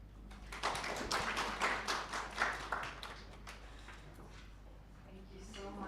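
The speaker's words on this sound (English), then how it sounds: "Let's give another round of applause." Scattered clapping from a small conference audience, a brief burst of applause that rises quickly and then thins out, fairly quiet and a little distant.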